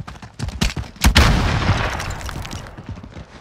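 Gunfire in the shooter game Warzone: a string of sharp, rapid shots leads into a loud booming blast that rings and decays, followed by further scattered shots fading out.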